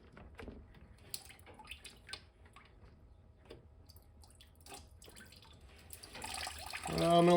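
Engine coolant drips and trickles out of a C5 Corvette during a radiator install, with scattered drops that swell into a louder, steady pour of liquid at the end, under faint background sounds.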